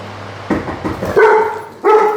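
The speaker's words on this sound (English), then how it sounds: "Actually made the dogs in the kennel bark too" Kennel dogs bark in reaction to a knock on a door, with a muffled thump and then two loud, close barks spaced apart over background noise.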